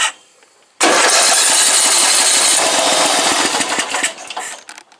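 A Briggs & Stratton 14.5 engine with an experimental carburetor catches abruptly after a quiet moment and runs loud and close with a rough, unsteady roar, then sags and fades near the end.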